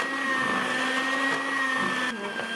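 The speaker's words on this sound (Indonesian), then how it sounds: "Ini saya mixer lagi. Kita mixer kurang dari 4 menit ya teman-teman." Electric hand mixer beating choux pastry batter with eggs, a steady continuous motor whir running close and loud throughout, with a brief shift near the end.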